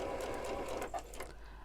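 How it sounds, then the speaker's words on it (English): A sewing machine runs a short burst of stitching on a quilted table mat, a steady close mechanical whir with a few faint clicks toward the end, no talk. "So I'm just going to do a couple of stitches"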